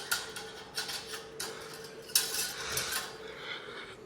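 Noodles being stirred in a pan with a ladle, giving a run of light metallic scrapes and clinks with irregular rhythm, moderately close and fairly quiet, with no voices.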